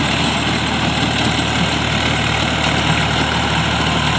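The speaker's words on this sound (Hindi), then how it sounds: "ये फाइनली हमारा ट्रैक्टर से हाल जोता जा रहा है।" A Swaraj 855 FE tractor ploughing a field deep, its diesel engine running with a loud, steady low drone and constant rumble close by, no voices over it.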